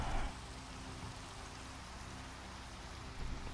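Steady rain in the Minecraft video game, a soft even hiss that continues throughout at low volume, with a brief louder patch at the start and end.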